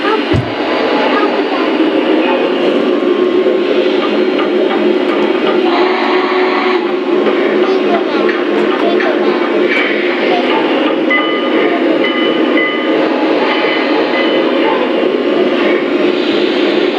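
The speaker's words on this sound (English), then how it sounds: "this is our train room, and we love our trains." Toy trains run continuously in a home train room, a steady close rattling rumble with clacking and whirring that goes on unbroken throughout.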